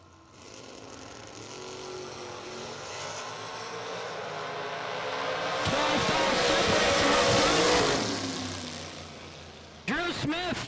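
A dragster at a bracket racing event roars past in a sustained, loud engine howl that swells and Doppler-sweeps near the middle, with a second sharp burst near the end, while a commentator talks over it.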